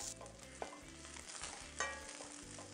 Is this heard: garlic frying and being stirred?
yes